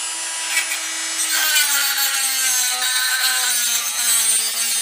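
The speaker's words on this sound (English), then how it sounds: "I'll turn on the tool and we will start sharpening." A 3D printed PLA tungsten electrode sharpener grinds away steadily, a close, continuous whirring rasp with a slight drop in pitch partway through.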